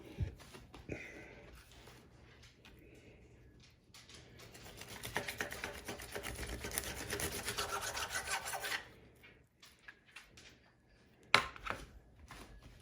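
A knife cutting raw pork baby back ribs apart one by one, with a rasping, scraping sawing through meat and bone that builds in the middle, then a single sharp knock near the end.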